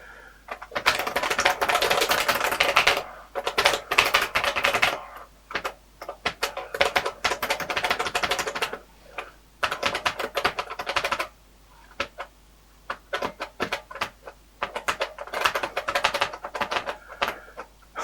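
Fingers clatter over the keyboard of an F09 Famiclone, a Nintendo clone console built into a keyboard, in uneven bursts of rapid key presses separated by short pauses, close and clear.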